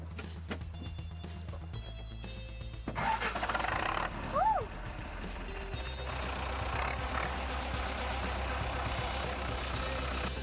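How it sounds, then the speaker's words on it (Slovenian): A farm tractor starts up, its engine catching with a rough burst and then settling into a steady, fairly loud idle that runs on, while a few people talk nearby. "A pa ta traktor zdaj tudi dela? Dela, a ga gremo zalaufati?"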